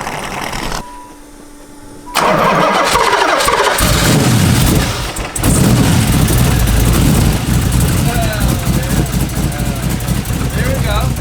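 LS1 V8 with a big cam swapped into a Nissan Z32 cranks briefly, then fires up loud and settles into a lumpy, choppy idle that rumbles on, close to the microphone, with people talking over it.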